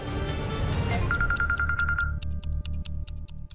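A phone ringtone sounds, a sustained electronic tone under a musical backing that swells and then breaks into rhythmic pulses.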